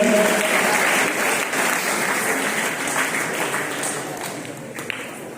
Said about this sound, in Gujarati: આપણે તાળીઓ વધારી દઈશું.